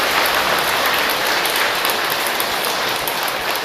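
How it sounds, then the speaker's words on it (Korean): A hall audience applauds the temple abbot during a Buddhist dharma talk at Masan Samhaksa. The clapping is thick and even, like a hiss of rain, and holds at a loud, unbroken level throughout. "주지스님께도 큰 박수 한번 다시 보내주시기"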